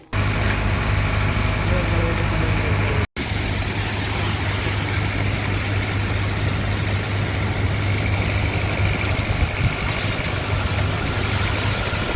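Steady, dense early-morning rain hiss in Punjab fills the scene without pause, broken only by a brief cut, with a low engine-like rumble underneath.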